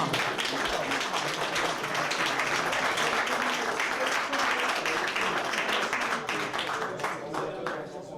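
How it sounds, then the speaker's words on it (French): Audience applause for the speakers at an evening event on architectural and urban programming, a dense, sustained wash of clapping from a sizeable crowd that holds steady throughout and eases slightly near the end. "je vous propose d'applaudir tous les intervenants donc, ce soir."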